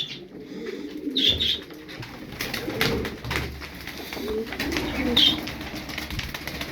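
Turkish play pigeons coo softly in low, rolling murmurs, several calls spread across the stretch, with faint chirps and rustling around them.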